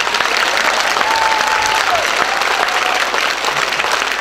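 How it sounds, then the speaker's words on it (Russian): An audience applauds at a concert, dense and steady clapping filling the hall, loud and continuous throughout with a faint voice briefly over it. "Давайте поблагодарим еще раз похлопаем."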